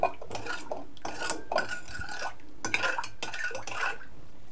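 A teaspoon stirs baking soda into hot water in a bowl, making continuous scraping and clinking of metal against the bowl with irregular taps, close and fairly loud, with no voices.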